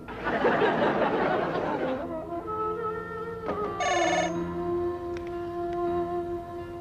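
An electronic phone ringtone trills through steady tones after a burst of noisy chatter, with a brighter ring pattern sounding near the middle.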